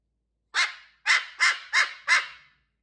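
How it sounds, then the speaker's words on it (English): Five loud, sharp dog barks in a steady series, each ringing out close to the microphone with brief pauses between. "Oh, that's a loud bark."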